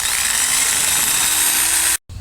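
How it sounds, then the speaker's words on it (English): A power drill bores a hole into a pool pipe for a chlorine feeder outlet, a loud continuous high whine close by that stops abruptly near the end before a brief restart. "And drill right here for the outlet."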